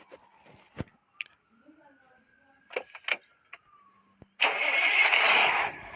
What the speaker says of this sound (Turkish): Şöyle motoru ısıtacağım da.